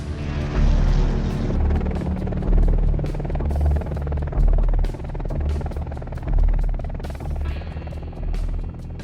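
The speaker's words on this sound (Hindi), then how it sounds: "AH-64E अपाचे का अत्याधुनिक और अपग्रेडेड वर्जन है। आज के समय में ये तकनीकी तौर पर दुनिया में सबसे उन्नत और घातक अटैक हेलीकॉप्टर है।" An AH-64E Apache attack helicopter roars close and loud, its rotor pulsing in a steady throbbing rhythm with deep booming surges and a constant engine hum.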